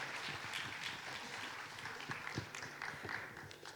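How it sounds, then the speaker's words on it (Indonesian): Audience applause at the FORTUNE Indonesia Summit 2026 luxury-market session, a faint, steady patter of many hands clapping together across the hall, continuous and unbroken. "Mari kita beri tepuk tangan yang paling meriah buat Ibu Jasmine dan Ibu Nella"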